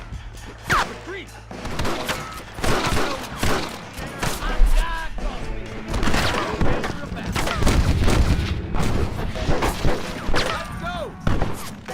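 Dense gunfire in a Red Dead Redemption shootout, rapid overlapping shots and thuds throughout, with shouted voices mixed in over the fighting.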